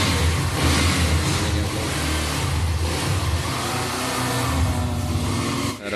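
Hero Xtreme 125R motorcycle just back from servicing, its engine revving on a test ride, a loud close buzzing drone with rises and dips in pitch throughout.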